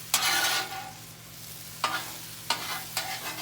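Carrots stir-frying in a pan for beef fried rice are flipped over with a utensil, giving loud sizzling rushes and scraping bursts that swell and fade several times over a low steady hum, with no speech.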